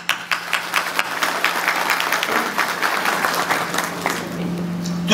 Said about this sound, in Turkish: sizlerden kendinizi alkışlamanızı rica